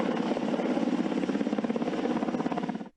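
A waterbombing helicopter over Queensland flies close overhead, its rotor beating in a rapid, steady thud over a loud engine drone that holds throughout and cuts off at the end.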